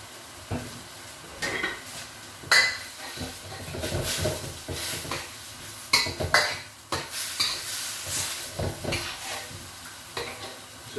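Beef and broccoli stir-fried in a pan with oyster sauce, a steady sizzle and hiss under repeated stirring scrapes and occasional sharp clinks of a utensil against the pan, close and continuous.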